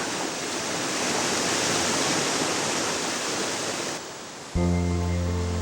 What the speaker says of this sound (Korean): 흘러가는 물소리에 세상을 잇습니다